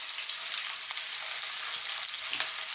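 Onion sizzling steadily in a hot pan for a chicken and coconut curry, a continuous bright frying hiss with soft crackles and no voices.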